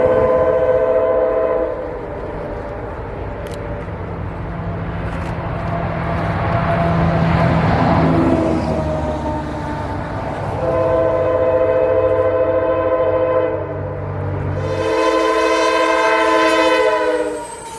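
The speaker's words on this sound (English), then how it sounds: "Me and Dakota both agreed at this time that the lead engine's horn was the worst horn of the trip." Freight train Q581 on the W&A rolls past close by with a loud, sustained rumble, while the lead locomotive's harsh, unpleasant horn blasts several long chords over it, the last one rising sharply near the end.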